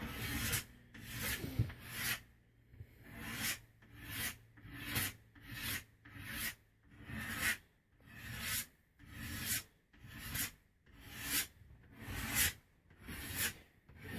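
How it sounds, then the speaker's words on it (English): Repeated strokes of a scraper shaving wood from the limb of a yew bowstave, about fifteen rhythmic rasping passes, close and steady with no talking. "as I'm scraping stuff off here to see which side is going to dominate the other"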